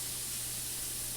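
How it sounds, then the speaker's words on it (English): Beef frying in a pan with onions, a steady broadband sizzling hiss that stays level and fairly quiet with no talk. "I love the sound of that sizzle."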